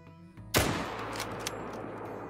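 A single loud rifle shot cracks out in the Call of the Wild hunting game, fired across open Mississippi fields, its sharp report trailing off into a long rolling echo and quiet ambience.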